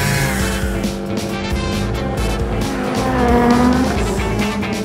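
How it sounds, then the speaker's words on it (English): Cartoon car driving with engine revving and long tire squeals, loud and close, with pitched skidding tones rising and sliding over a continuous motor drone. "And I love driving my car."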